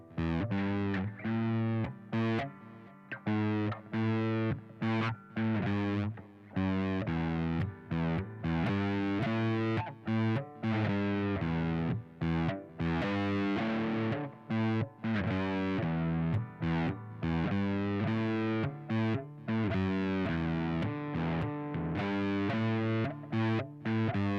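Distorted electric guitar plays a melodic lead line followed by plucked bass-style notes, loud and continuous with short articulated phrases and no voices.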